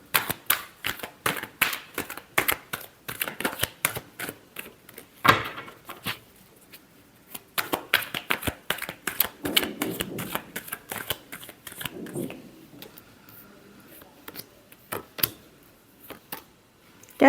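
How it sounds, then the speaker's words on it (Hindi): A tarot deck is shuffled close to the microphone in quick, crisp riffling bursts broken by short pauses and a few heavier taps as the cards are squared. "Last shuffle."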